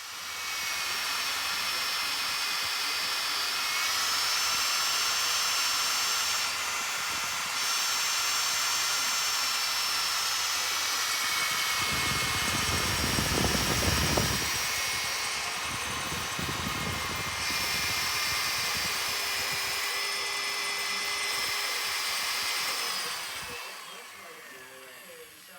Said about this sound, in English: step up the drill bit size slowly, and you can keep coring out this area